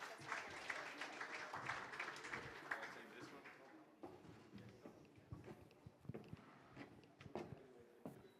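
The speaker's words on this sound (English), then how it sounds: "welcome Indra to the stage with a big round of applause" Applause from a crowd at a geothermal industry forum rises then thins into scattered claps, fairly distant and soft, with some talking mixed in.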